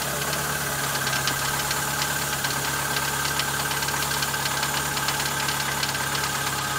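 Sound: cold start and idling of a used jeep engine

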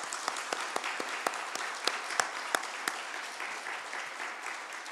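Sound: audience applause for the pastor

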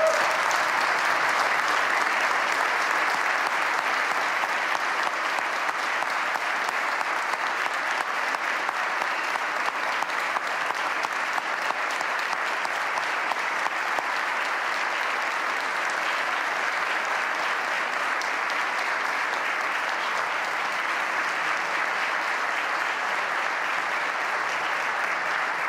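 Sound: audience applause at budget address

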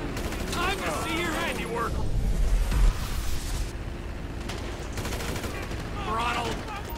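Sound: gunfire in the video game GTA 5

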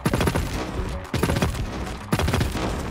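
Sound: Moonduster energy weapon burst fire in video game Hawked

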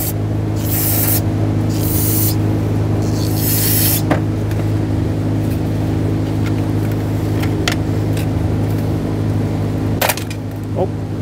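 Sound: spraying brake parts cleaner into fuel injector bores

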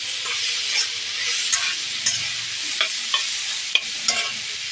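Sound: soybeans frying and being stirred in a pan

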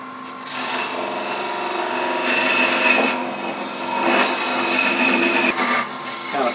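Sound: wood lathe parting tool cutting off a pedestal box

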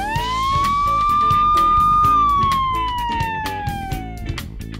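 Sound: fire truck siren in a children's construction video game

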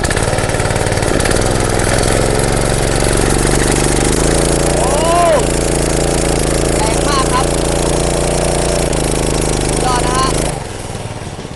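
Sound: 7.5 hp water pump engine running and revving

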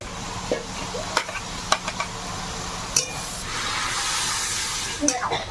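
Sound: prawns frying in pan after greens

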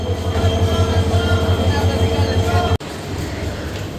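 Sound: train at railway station

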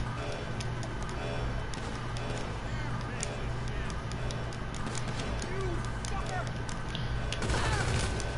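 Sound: AK rifle gunfire in a video game

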